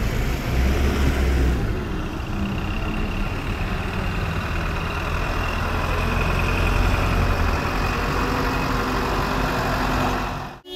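A Kalyan–Raver state bus engine idles on a curve of the Kasara ghat road, giving a steady, low diesel rumble close by with no talking over it, before cutting out abruptly at the end.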